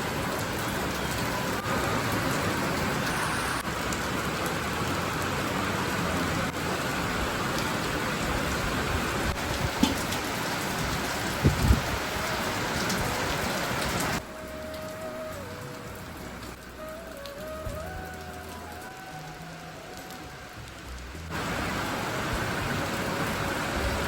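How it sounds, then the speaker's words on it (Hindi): Steady rain falls outside in the mountains, a dense, even hiss that carries on throughout with a couple of brief knocks midway and a softer, quieter stretch near the end. "आज हो रही है बारिश बाहर"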